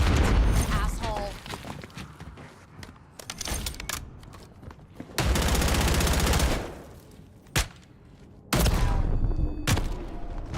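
Gunfire during a Warzone match: loud bursts of automatic fire, sustained machine-gun runs that stop and start, a sharp single shot between them, and dense volleys near the close, with faint voices now and then underneath.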